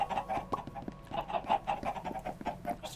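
Minecraft chickens on a chicken farm keep up dense, overlapping clucking, many birds close by in a steady busy chorus.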